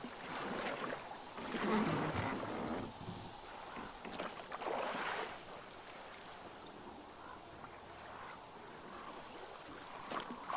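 Small boat rowed across water in the video game Metro Exodus, with soft splashing strokes and a steady wash of water and wind noise; the strokes swell and fade over a continuous ambient bed.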